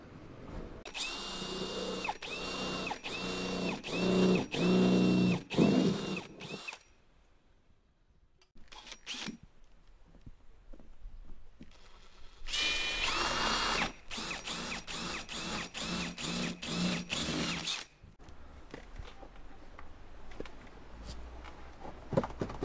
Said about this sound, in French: pour pouvoir accéder au trou que Doudou va percer, on est obligé d'enlever tous les plastiques.